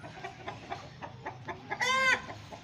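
Heritage Australorp black and blue roosters in a pen, with repeated nearby clucks leading into a loud crow near the end.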